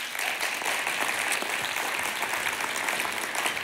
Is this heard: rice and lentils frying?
no